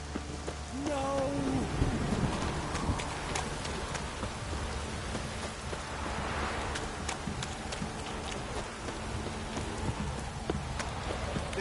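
Steady rain falls in a PS4 video game, a constant hiss of drops on surfaces with occasional hoof-like clops and faint rumbles, held at an even moderate level throughout.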